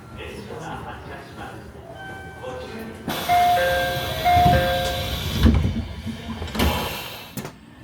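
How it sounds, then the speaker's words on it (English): Local train pulling away from Ogaki Station, a broadband rumble rising from about three seconds with rattling and clunks, faint tonal whines and chimes above it, with brief speech in the carriage. "This train has started to move."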